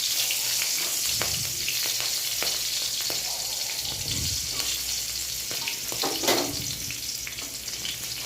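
Cumin seeds, cloves, cinnamon, cardamom and green chillies frying in hot oil in a wok, a loud continuous sizzle with a few stirring clunks and scrapes, no voices.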